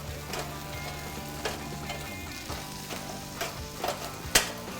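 Chicken pieces sizzle and fry in a hot pan with rendering fat and a baking-powder coating, with a few soft stirring and tossing knocks over the steady crackle; no one speaks.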